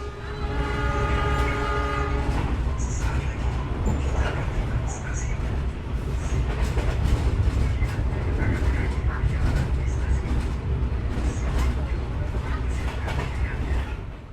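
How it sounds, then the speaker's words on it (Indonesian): Ride aboard the Arjuno Express executive-class passenger train between Surabaya and Malang: a steady rolling rumble and rattle of the carriage throughout, a horn sounding early on, with voices talking over it. "untuk kereta api Arjuna Express di kelas eksekutif"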